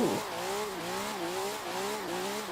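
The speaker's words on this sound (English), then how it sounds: "Oh, I like the revving." A rear-wheel-drive drift car built by Chris Forsberg revs repeatedly, its engine note rising and dipping in quick wavering pulses, steady and moderately close with no voices.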